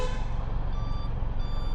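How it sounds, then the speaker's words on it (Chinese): A Wuji SR450X motorcycle's turn signal gives a faint, continuous electronic beeping, like a reversing alarm, buried in steady low background rumble. "转向灯也有声音，"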